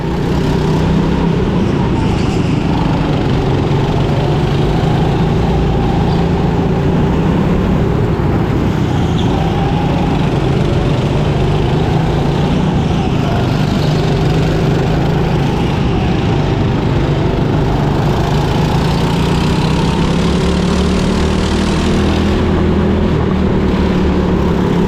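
Go-kart engines race around an indoor karting track in a Nottingham hangar, a loud, continuous droning roar that holds steady throughout with no pauses.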